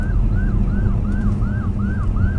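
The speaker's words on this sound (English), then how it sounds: "Hold on 1 second. I'm hearing sirens." A siren wails in a fast repeating up-and-down cycle over the heavy rumble of road traffic, loud and close.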